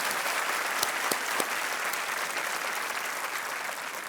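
A studio audience on the Kaun Banega Crorepati game show breaks into dense, even applause that continues at a steady level from start to finish.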